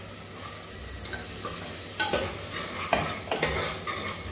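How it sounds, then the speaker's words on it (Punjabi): Spices and vegetables sizzle steadily with a little water in a hot pan, close up, with a spoon scraping and stirring in uneven strokes; no voices. "ਚੰਗੀ ਤਰ੍ਹਾਂ ਭੁੰਨ ਮਸਾਲੇ ਨੂੰ"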